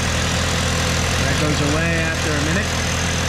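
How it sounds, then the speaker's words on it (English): An old Saab 9-5 Aero with about 200,000 miles idles steadily with a constant low rumble and slight exhaust noise, while someone talks over the engine. "It sounds awesome. No oil leaking."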